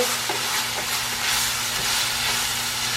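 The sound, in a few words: stirring cumin into food frying in a pan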